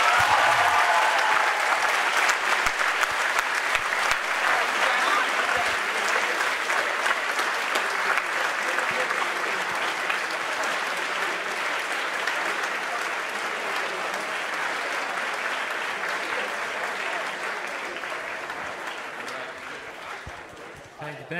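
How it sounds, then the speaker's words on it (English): A large audience at a school event gives a long, sustained round of applause welcoming a speaker to the stage, a dense roar of clapping that stays loud and steady for about twenty seconds before tapering slightly at the end. "I would like to start this morning off by a big round of applause"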